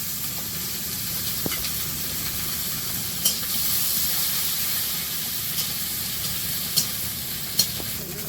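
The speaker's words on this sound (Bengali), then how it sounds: "একটা কড়াই বসিয়ে তাতে তেল দিয়ে শুকনো লঙ্কা দিলাম" Dried chillies and spices sizzle in hot oil in a wok, producing a continuous close hissing crackle with a few sharp pops and spatters scattered through it, and no talking.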